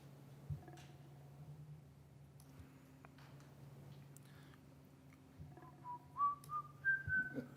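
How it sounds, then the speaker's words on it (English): A person whistles a tune quietly over a low steady hum, the clear whistled notes growing louder and more distinct toward the end. "You're whistling, I love that."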